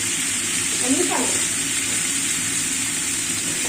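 Cauliflower, potato and tomato frying in a pan with fish spices, giving a steady broad sizzle with a brief stirring scrape near the start, close and continuous.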